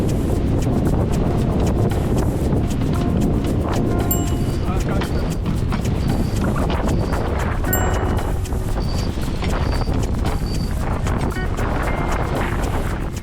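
A strong gust roars steadily across a reefed sailboat at sea during a storm in the Great Australian Bight, a loud, unbroken rush of wind with occasional creaks and knocks.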